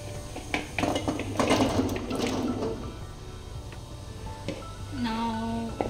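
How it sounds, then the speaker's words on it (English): Amla gooseberries drop into a pot of boiling water with a burst of splashes and bubbling, then the liquid settles into quieter simmering, and a brief tonal squeak follows near the end. "Now we'll add this amla gooseberry to this boiling water."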